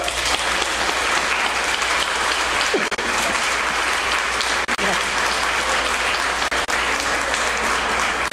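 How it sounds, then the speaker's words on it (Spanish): A large audience claps steadily and densely at a horror-literature event honoring Mary Shelley, the dense applause filling the full eight seconds at an even level with no voices breaking through. "les pido por favor a todos un gran aplauso"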